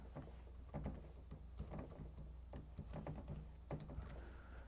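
Quick, light keystrokes on a Macintosh computer keyboard come in short irregular bursts, close and faint in a quiet room.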